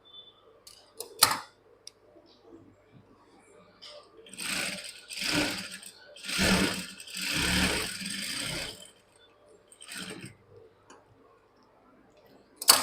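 Sewing machine stitching a blouse, running in several short bursts of whirring with quiet gaps and a few clicks between them.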